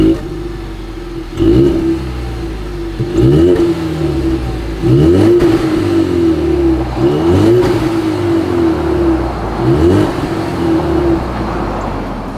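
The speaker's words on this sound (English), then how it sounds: "let's just go ahead and start it up. I think you guys know what we have to do next. As always, here is that exhaust clip." A 2020 Ford Mustang EcoBoost turbocharged four-cylinder starts up and revs repeatedly, its exhaust rising in several loud blips over a steady idle rumble, heard close and alone.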